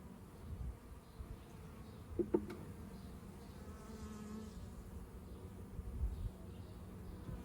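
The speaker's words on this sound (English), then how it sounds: "So there's definitely bees up here in the top box." A steady, low hum of many honey bees buzzing together in the top box of a hive during inspection, continuous and close, with a few faint clicks.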